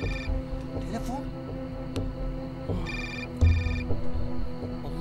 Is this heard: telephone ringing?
yes